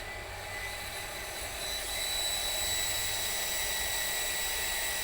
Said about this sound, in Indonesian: sudah on, mesinnya sudah bisa digunakan jet pumpnya